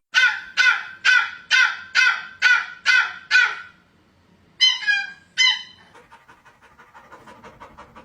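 A dog makes a run of eight quick, rhythmic panting or huffing yelps, then two higher squeaky bursts after a short pause, followed by a softer, faint chattering tail, all close and loud.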